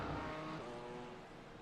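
A GT4 race car in iRacing at Sebring drives on, its engine a brief, fairly faint roar with a steady wash of road noise and no voices.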